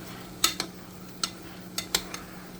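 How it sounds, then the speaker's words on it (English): A utensil stirs pork belly in a pan, giving a handful of sharp, scraping clinks at irregular intervals over a faint steady sizzle, fairly quiet and with no talking. "let's stir it around a bit more"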